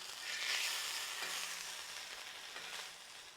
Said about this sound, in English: I'm going to start grilling up the knockwurst right now